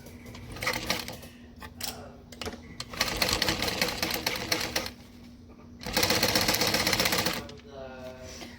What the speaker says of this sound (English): I think I'll sew now. Okay, I'm gonna start at one of the gusset sides.